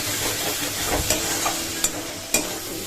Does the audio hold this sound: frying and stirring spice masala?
yes